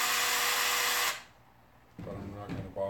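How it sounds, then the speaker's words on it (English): A power drill runs loud and steady, drilling through an armature base, then stops abruptly; brief handling knocks and a short whir follow in the quieter space afterward. "I need to drill right through,"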